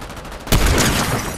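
A sudden burst of gunfire in Fortnite cuts in halfway, loud and close, with a rattling tail after a quieter stretch of background noise.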